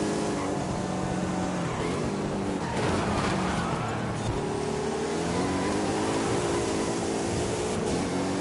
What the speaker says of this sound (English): That's why it's hard to drift in the Porsche.